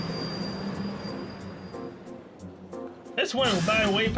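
Train ride in the Trails of Cold Steel video game: a steady rumbling carriage drone with faint squealing wheels runs throughout, then a bright, louder burst of game music or effects swells near the end.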